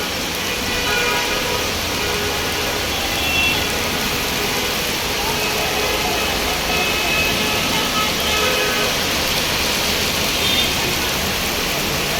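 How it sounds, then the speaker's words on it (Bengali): Heavy rain pours down in a dense, steady roar of hiss and patter that stays loud and unbroken throughout. "অসাধারণ বৃষ্টি হচ্ছে।"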